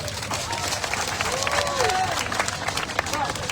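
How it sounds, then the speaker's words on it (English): A crowd claps at a road upgrade dedication in Gbarnga, Liberia, a steady wash of applause lasting a few seconds, with some voices and chatter mixed in. "Please clap for them."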